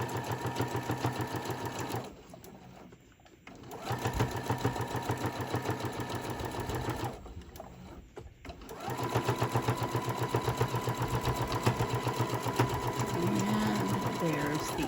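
A sewing machine runs in steady, fast, close stitching bursts while sewing down a Christmas zipper pouch, pausing twice for a second or so before whirring on again.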